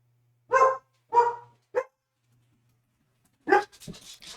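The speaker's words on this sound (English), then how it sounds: "don't come in here and bark. That's loud." Dogs barking indoors, with three short close barks in quick succession, a pause, then a louder burst of barking and yelping, near and sharp in a quiet room.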